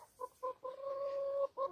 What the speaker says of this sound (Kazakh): Осы тауықтарымыз мінекей.